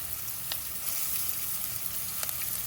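Green chillies, grated ginger and asafoetida sizzling in hot oil, a steady crackling fry throughout with a few sharp pops and spits.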